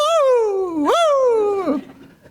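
A person imitates a wolf howl with their voice at a graduation ceremony: two rising and falling howling tones, close and loud, the second swooping up then sliding down before trailing off.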